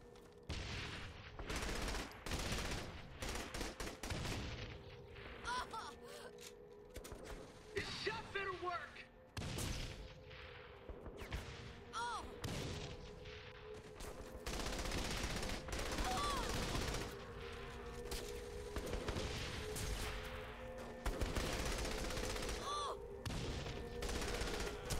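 Gunfire in Saints Row: The Third crackles almost nonstop as rapid automatic bursts and scattered shots, with voices talking intermittently over the sustained firefight.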